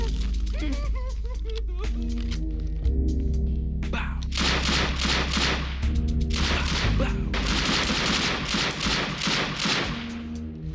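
Rapid automatic gunfire in an indie Unity HDRP shooter, dense bursts of close, loud shots in several volleys over a low droning backdrop.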